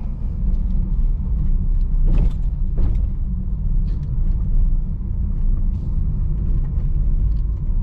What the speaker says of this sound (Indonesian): main gas dikit oper gigi dua